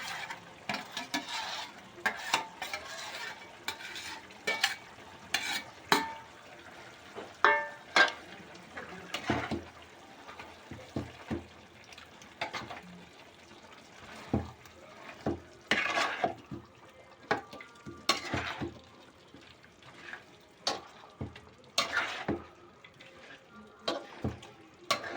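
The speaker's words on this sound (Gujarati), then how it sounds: "તો હવે આપણે જે આદું લસણ પછી ટમેટા અને ડુંગળી એનો જે પેસ્ટ બનાવ્યો છે હવે એ આપણે નાખી દઈશું" A ginger-garlic, tomato and onion paste is stirred into a pan for a Gujarati chicken and potato curry, giving repeated close scrapes, clinks and clatter from the spoon over a soft, intermittent sizzle.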